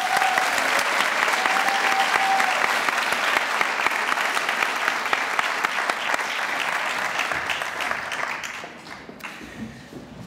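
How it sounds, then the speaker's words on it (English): A hall audience at a senior awards night gives a long round of applause for Mr. Schaefer and the jazz band. Dense, even clapping holds for several seconds, then thins and fades toward the end. "May I first have another round of applause for Mr."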